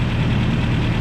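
A Toyota engine idles steadily at operating temperature, a close, constant mechanical drone with a faint valve tick in the mix, and nobody talks over it.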